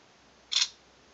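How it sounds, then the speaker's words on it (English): A single short, crisp shutter click from a Motorola Droid 3 phone camera, close and alone against near silence. "Test shutter response time and all that."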